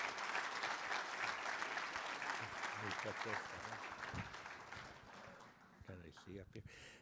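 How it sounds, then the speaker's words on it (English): Audience applause welcoming a keynote speaker at a cannabis conference, clapping that is fairly loud at first and fades away over the last seconds, with a few faint voices underneath. "Give him a big round of applause."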